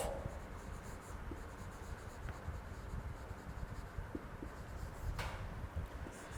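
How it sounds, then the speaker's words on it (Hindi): Hand-writing notes during a lesson on coal and petroleum, a quiet close scratching and rubbing of pen on paper with small strokes and taps, alone with no talk. "तो लिखेंगे हम"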